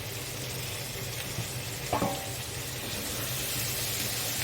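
Fried vegetables go into a pan of frying spices for pui shaak chorchori with fish head, giving a continuous low sizzle with one brief clattering stir midway.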